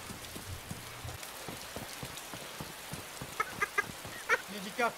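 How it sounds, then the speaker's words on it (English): Rain patters across surfaces in a video game, a dense soft hiss dotted with scattered drops, while brief honking game noises break through near the end. "I give it 20 seconds before it starts raining again"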